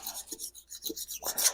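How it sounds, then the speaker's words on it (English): A razor blade scrapes old gasket material off engine surfaces during a Pontiac water pump and timing chain cover job, a quick series of short, rasping strokes, close and fairly soft. "I'd take a razor blade and just start cleaning up all these surfaces"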